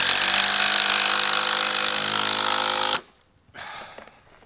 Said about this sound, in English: and I've got the impact driver.